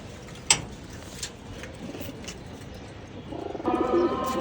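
Pigeons, some of them sick, coo softly nearby amid a few sharp knocks and scuffs, with a fuller, louder call rising near the end.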